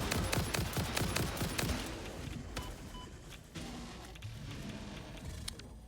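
Rapid automatic gunfire in the video game Satisfactory, a dense stream of sharp shots over a constant background rumble, easing into scattered bursts later, with no talk.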